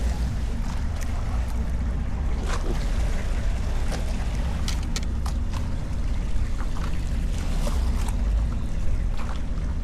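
Steady rushing and sloshing of choppy water against a small fishing boat, loud and continuous, with wind noise throughout.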